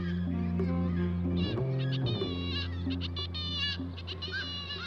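Kittiwakes at a nesting colony on an old Gateshead warehouse, a chorus of repeated high, wavering cries from many birds layered over a constant low drone of city noise.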